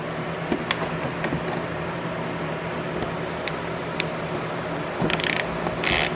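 A Torx T25 bolt being worked loose from the air duct near the headlight of a BMW E60 M5, heard close up as faint metallic ticks and clinks over workshop hum, with a brighter rattle near the end.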